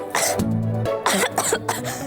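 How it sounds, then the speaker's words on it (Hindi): A woman coughs hoarsely several times in quick succession, close and loud, with throaty, strained bursts. "देखिए कैसे खांस रही हैं"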